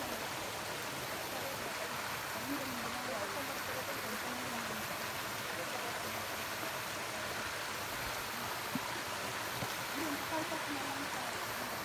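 Cold mountain spring water runs through an improvised bamboo pipe at the foot of a mountain, a continuous hissing rush of flowing water with faint voices now and then underneath.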